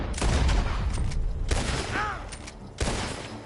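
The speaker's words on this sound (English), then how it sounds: "The gunshots are coming." Gunfire in a Western-style shootout in Red Dead Redemption 2: a cluster of loud, sharp shots in quick bursts with a short gap between volleys, and a brief shouted cry partway through.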